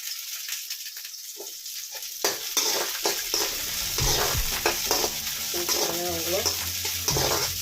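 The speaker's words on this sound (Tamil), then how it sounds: "இது நல்லா பாருங்கள், வெங்காயமும் நல்லா வதங்கிடுச்சு. இந்த மிளகாயங்களை போடலாம்." Onions and chillies stirred and fried in a pan for a ridge gourd chutney, with steady sizzling and scraping spoon strokes that grow busier after the first couple of seconds, close and fairly loud, with no voices.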